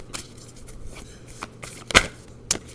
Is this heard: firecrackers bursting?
no